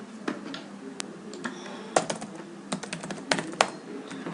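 Keystrokes on a computer keyboard, irregular clicks and taps at close range, some louder strikes standing out, in a quiet room without talk.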